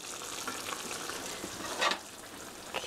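Tofu sauce with mushrooms simmers and sizzles in a pan while being gently stirred, a steady bubbling fry broken by one brief, louder scrape of the utensil near the middle.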